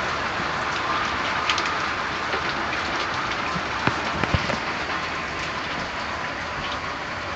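Steady, dense rain pours down close by, a constant hiss with occasional louder drips and splashes; no one speaks.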